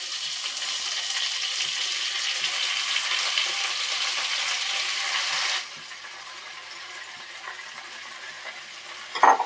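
Gongura leaves sizzle and hiss steadily in hot oil for several seconds, then the frying drops to a quieter simmer, with a brief clatter near the end.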